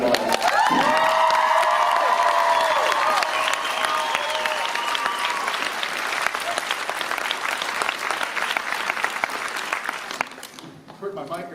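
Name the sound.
audience applause and cheering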